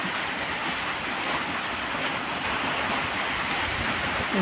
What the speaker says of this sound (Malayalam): എൻ്റെ പുറത്ത് നല്ല മഴയാണ് കേട്ടോ എൻ്റെ നല്ല സൗണ്ട് കയറി വരുന്നുണ്ട്